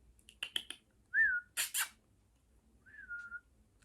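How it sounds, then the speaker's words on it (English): Two short rising-falling whistled tones from a person, separated by a brief burst of breathy noise and a few faint clicks at the start, heard fairly close in a quiet indoor room. "I'm not very good at whistling."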